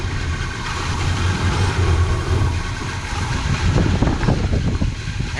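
A 1978 El Camino idles with a steady low engine rumble as its air conditioning clutch engages, with a few faint clicks and knocks toward the end.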